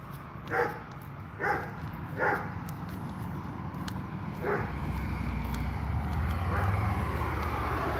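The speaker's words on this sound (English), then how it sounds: "That dog scared me." A dog barks a few times in the distance, three spaced barks then one more, faint over a steady background rumble with no talk.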